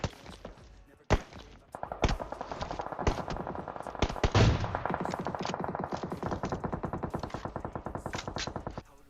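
Automatic gunfire in the mobile battle game PUBG Mobile, with a few single shots giving way to long, rapid, echoing bursts that keep up for several seconds, loud and close, with no talking.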